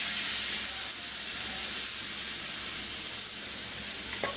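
Mixed vegetables and lentils being stir-fried in a pan, giving a steady, even sizzle and hiss close by that runs unbroken with no talk.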